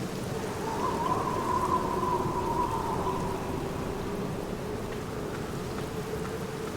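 Rain falling in the horror point-and-click game The Black Mirror, a continuous hiss of water with a soft, sustained ambient tone beneath it.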